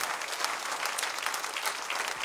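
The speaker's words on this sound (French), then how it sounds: "Est-ce qu'on peut juste applaudir le Seigneur pour ce qu'il fait vraiment?" A church congregation claps together in praise, a continuous, evenly dense patter of many hands at moderate loudness without voices.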